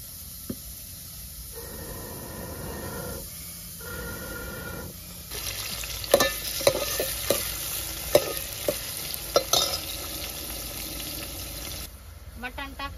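Onion frying in a pot over a wood-fired clay stove, a soft hiss broken by sharp clattering stirring knocks in the middle stretch, with a faint low voice early on.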